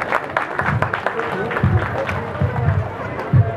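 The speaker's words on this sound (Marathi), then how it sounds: "टाळ्या असू द्या." Applause rises at an outdoor Buddha Jayanti celebration in a village, a crowd clapping steadily for a few seconds with chatter and voices mixed in.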